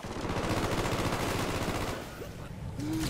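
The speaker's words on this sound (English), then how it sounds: "I don't even know what I was shooting at there" Dense bursts of automatic gunfire in a first-person shooter match, loud and continuous, thinning briefly near the end before resuming.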